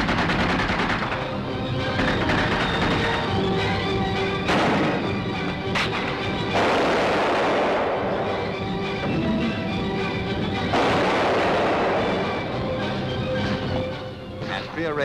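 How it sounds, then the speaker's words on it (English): Mortar and supporting gunfire during a wartime Royal Marines assault up a ridge, with dense, continuous bursts and thuds under a steady commentary voice throughout. "a left flanking movement up the ridge takes place with supporting fire frontally and smoke cover from the mortars"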